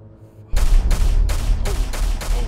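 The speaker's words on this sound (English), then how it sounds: "I don't know who's shooting." Rapid bursts of gunfire in the survival shooter Miscreated, a loud volley of about six sharp shots in quick irregular succession after a quiet start.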